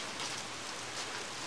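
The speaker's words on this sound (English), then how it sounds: "Well, getting a little rain." Light rain falls steadily outdoors beside a screen patio being converted into a room, a soft, even hiss of drops pattering on surfaces, faint and continuous with no voices.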